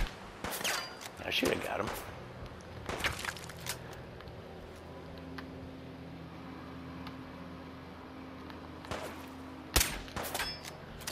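Combat rifle fire in the video game Fallout 4 comes in a few sharp bursts of shots, loud and close, separated by quieter stretches with a low hum. Someone talks during the clip.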